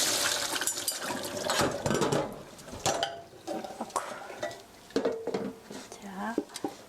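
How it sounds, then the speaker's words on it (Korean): Clattering and scraping of utensils against a metal strainer as soaked frozen rice cakes are stirred in hot water and strained, with watery sloshing and light knocks, interspersed with brief talking. "뜨거운 물에 불려놓은 떡 이제 이렇게 저어서 걸름망에 걸러주시고요"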